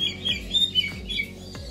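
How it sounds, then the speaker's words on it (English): Small birds chirp in quick, bright bursts inside a forest aviary at a bird park, several short tweets repeating close by over a faint background hum. "you're more likely to actually hear the birds than to see them"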